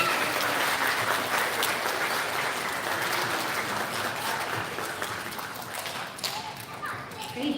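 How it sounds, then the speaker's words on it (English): An elementary school audience claps for students from special areas at a recognition ceremony, a continuous wash of applause filling the room that thins slightly near the end. "Nice big round of applause for all of our special areas."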